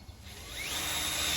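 A power drill spins up and bores into a planter box in a yard, its whine rising in pitch and then holding steady, close and fairly loud with no talk.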